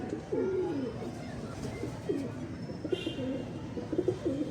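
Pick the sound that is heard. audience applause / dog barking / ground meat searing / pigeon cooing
pigeon cooing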